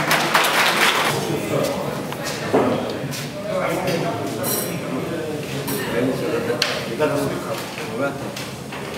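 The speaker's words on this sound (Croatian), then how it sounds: "Još jedan aplauz za našeg Branka." An audience claps at an anniversary gathering of the Ogulin beekeepers' society, uneven scattered applause with clinks and knocks while a voice talks over it.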